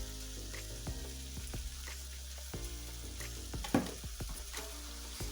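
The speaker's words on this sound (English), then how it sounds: "And then I'm just gonna give it a nice stir." Veggie fajitas sizzle and fry in a hot pan as they are stirred, a constant crackling hiss broken by scraping and clinks of the utensil, close and fairly quiet.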